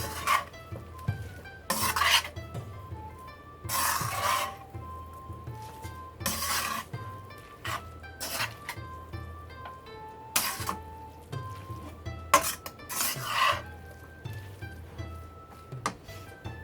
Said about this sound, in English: this sesame oil. You want to mix that in well.